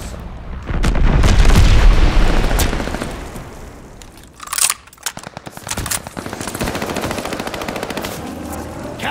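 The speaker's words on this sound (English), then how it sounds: "Friendly bombing run inbound." Heavy wartime battle in the Call of Duty: Vanguard video game: a bombing run brings loud booming explosions, followed by rapid, rattling bursts of machine-gun fire that keep going in close, dense volleys.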